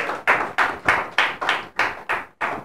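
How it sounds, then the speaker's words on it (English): Rhythmic clapping rings out during a church service, about nine sharp, evenly spaced claps close by, each one loud with a quick decay, and no voices over it. "Let's give the Lord a round of applause and appreciate him"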